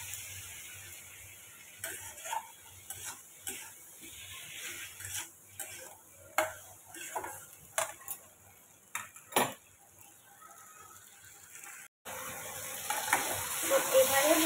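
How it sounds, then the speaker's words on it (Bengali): Prawns, potatoes and tomatoes being stir-fried in a pan, with a steady sizzle under repeated scraping and clicking strokes of a spatula against the pan, and a louder burst of frying near the end. "আবারও ভালো করে নাড়াচাড়া করে কষিয়ে নেব চিংড়ি মাছ আর আলু টমেটোগুলো।"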